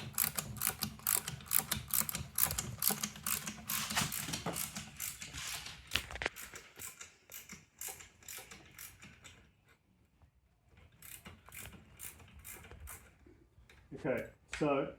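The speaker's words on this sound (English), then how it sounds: "I've got a 5mm Allen key just on a wrench to speed things up a bit" A ratchet wrench fitted with a 5mm Allen key winds a bolt out on a belt-drive e-bike, giving rapid, steady clicking bursts close to the microphone that pause briefly midway.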